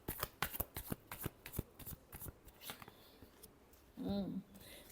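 Tarot cards are shuffled by hand in rapid, crisp riffling flutters for a few seconds, close and clear, followed by a brief voice-like sound near the end.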